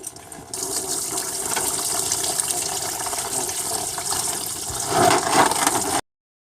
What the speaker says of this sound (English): remove the radiator cap, and then it'll flow faster